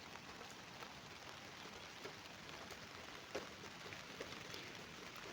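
Rain falls on a mountainside home, a soft steady hiss of drops on surfaces with a few faint taps, quiet and continuous with no voices.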